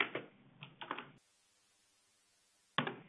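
Keyboard typing of a short phrase into a spreadsheet cell: brief bursts of clicky keystrokes at the start, a long silent gap, then another quick cluster of key taps at the end, close and fairly quiet.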